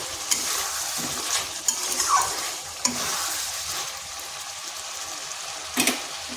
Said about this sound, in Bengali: মাংসটা এভাবে ভালো করে কষিয়ে নিতে হবে